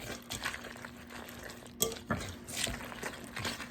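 Organic cookie ingredients, including berries, being stirred in a bowl: a steady scraping and sloshing with a few clinks of utensil against the bowl, close and continuous.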